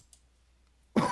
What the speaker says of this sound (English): That was an ironically placed cough.